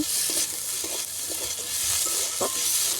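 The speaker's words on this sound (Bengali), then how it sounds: "ডুমুরগুলো আমি দিয়ে দিচ্ছি ডুমুরগুলো এর সাথে আমি একটু ভেজে নেব" Figs frying with spices in a pan give off a soft continuous sizzle, broken by a few scraping stirs of a spatula, close and unhurried with no voices.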